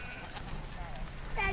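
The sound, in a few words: Kiko goats bleating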